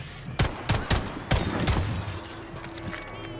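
Gunfire in the video game Atomic Heart, a rapid volley of sharp loud shots in an uneven burst followed by a fading echo and a lingering hum.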